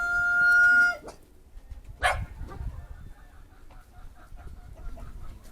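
Chickens: a loud tonal squawk opens, followed by scattered clucking and rustling nearby, with a sharp burst midway.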